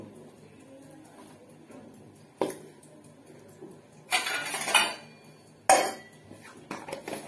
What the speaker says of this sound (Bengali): একটু ঢাকা দিয়ে কিছুক্ষণ রেখে দেবো।